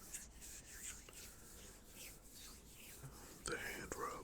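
Hands rub together as an ASMR sleep trigger, soft dry friction swishes repeating close to the mic, with a couple of brisker rubs near the end and faint breathy sounds.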